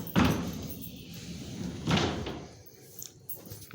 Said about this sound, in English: Love this sliding door too.